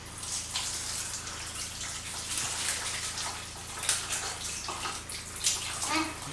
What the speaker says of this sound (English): Now we're going to put it through a sieve.